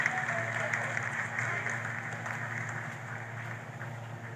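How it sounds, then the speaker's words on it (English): Sustained applause from staff in mission control during the Chandrayaan moon landing, steady clapping and crowd noise throughout, with some voices mixed in. "Lot of applause"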